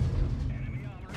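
Super Conqueror heavy tank gun firing in World of Tanks, a deep booming shot with a rumbling tail, close and loud, briefly mixed with a voice.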